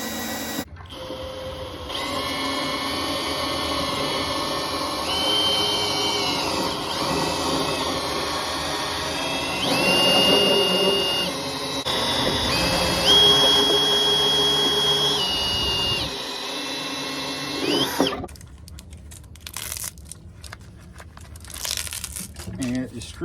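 Vevor wire stripping machine running as copper wire is fed through and stripped from its jacket, a steady loud mechanical whir and grinding with shifting tones, ending abruptly near the end with rougher handling noises.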